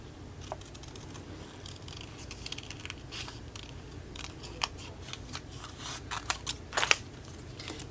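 Scissors snipping through paper up close, a series of quiet, irregular crisp cuts that cluster more densely toward the end, with no voices.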